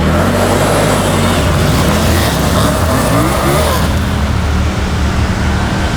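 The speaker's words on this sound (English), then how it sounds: "And that sound when revving it" A 2024 Triumph Tiger 900 Rally Pro adventure motorcycle engine revs loudly and continuously up close, its pitch rising and falling as the throttle is worked, with steady wind-like roar throughout.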